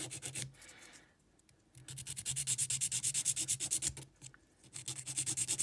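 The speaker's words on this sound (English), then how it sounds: "I am done kind of filing it with my nail file" A nail file works a fake nail in quick, close rhythmic strokes, a crisp scratchy rasp in bursts with a short pause near the middle.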